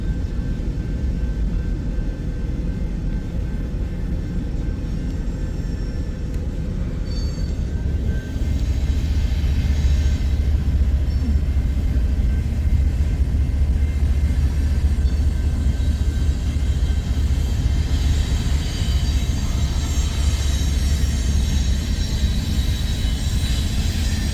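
A long empty coal train rolls past at Pacific Junction, Iowa, with a rear DPU locomotive pushing, making a loud, steady rumble and clatter of wheels and cars that swells partway through and keeps going.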